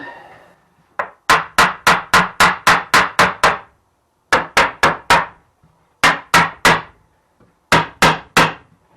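A mallet knocks on parts of a wooden kitchen stool being assembled, delivering three bursts of sharp, ringing blows: a quick run of about nine, then four, then three, close and loud with no talk.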